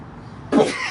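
A sudden single sneeze-like burst, close and fairly loud, breaking a quiet room and fading over about half a second.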